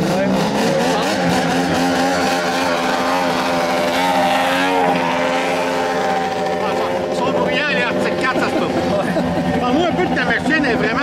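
A turbocharged four-stroke Arctic Cat Thunder racing snowmobile engine drones steadily and loudly throughout, its harmonic tone rising and shifting, with people talking over it.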